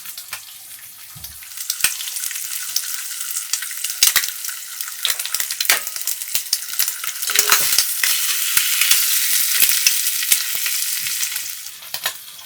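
Bacon fries in a hot pan at a campsite, a steady bright sizzle that swells and fades, punctuated by sharp scraping and clinking as it is moved around, no voices.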